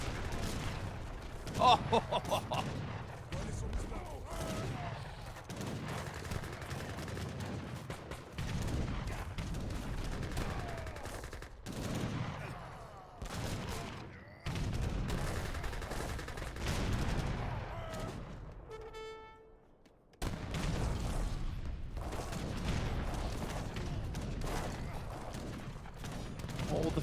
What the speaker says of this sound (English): Oh, so much artillery whacking down these sharpshooters.